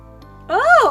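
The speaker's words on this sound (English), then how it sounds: "I'm distracted momentarily by the sound of clinking glass" A bright, tinkling chime of glass being clinked as a cat taps a beaker in the game Purrfect Date, rising in pitch and then falling away over a low background hum.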